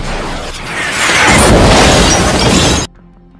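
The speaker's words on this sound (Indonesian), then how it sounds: "sebuah pasukan tiba-tiba menembakkan misil ke arah mereka" Missile strike explosion in a film, a loud roaring blast with crashing, shattering debris that swells over a few seconds and then cuts off abruptly into quiet.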